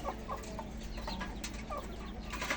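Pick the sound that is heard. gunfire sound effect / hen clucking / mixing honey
hen clucking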